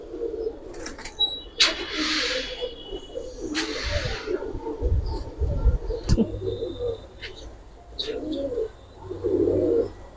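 Giribaz pigeons coo in soft, repeated throaty bursts close by, with occasional chirps and wing or cage rustles between calls.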